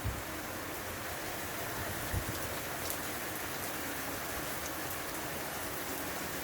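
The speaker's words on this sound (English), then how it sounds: "this is a very handy little drop of rain" Steady rain falls in a constant soft hiss, with the odd louder drip from a gutter and downpipe, continuous and even throughout.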